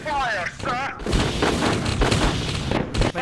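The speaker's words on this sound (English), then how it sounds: "Sir, we are under fire, sir!" Artillery and gunfire from the War of the Worlds video game rumble in dense, continuous booms and cracks, loud and close, with a brief voice near the start.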